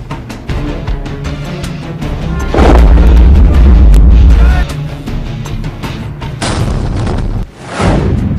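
Dhanush artillery gun firing: a loud, deep boom with a long rumbling tail, then further sharp bursts and heavy low rumble, with faint voices in the background.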